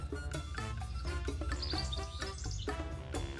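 Birds chirp outdoors in bright sun, with repeated quick tweets and trills following one another at a lively pace, clear and fairly close and with no voices over them.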